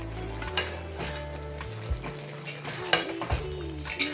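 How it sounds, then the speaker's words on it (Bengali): A mixed vegetable curry for a temple offering, with ginger-chilli paste and green chillies, sizzles softly in a pan while a spoon stirs and scrapes it at intervals, close and moderately quiet, with a few clinks. "আবার নেড়ে চেড়ে আবার আমি ঢেকে ঢেকে কষবো"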